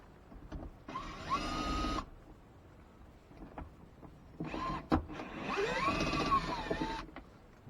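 Two bursts of a whirring power tool removing T30 screws on a 2001 Dodge Ram during heater core work, each lasting a second or more, with short clicks and clunks between them in a quiet space.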